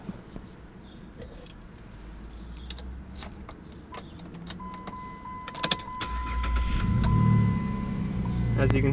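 Inside a 2007 Jeep Liberty Limited, a few clicks and cabin noises are followed by the engine cranking and catching into a low, steady idle, with a person talking over it.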